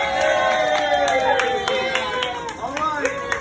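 A room crowd at a hybrid fundraising event, rhythmic clapping and cheering in steady repeated bursts with a constant background hubbub, while a voice talks over it.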